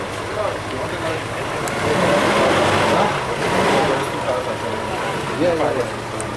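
Cars and traffic pass along a roadway with engines rumbling; two louder swells mark vehicles going by near the listener, and faint voices mix with the road noise.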